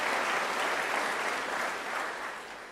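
A large graduation ceremony audience in a university hall applauds in a dense, steady wash of clapping that gradually tapers off near the end.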